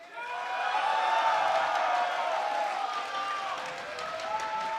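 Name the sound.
crowd cheering for Team WE at an esports event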